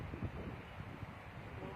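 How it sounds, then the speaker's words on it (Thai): Strong wind blowing outdoors across open farmland, a steady broadband rush with low gusty buffeting against the microphone, continuous throughout. "ลมแรงมากๆเลย"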